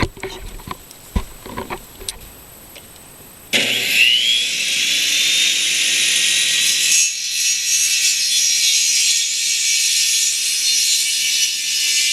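Wood being cut to make nesting box blockers: a few knocks and handling sounds at first, then a steady, loud, continuous rasp of cutting close by that runs to the end without pause.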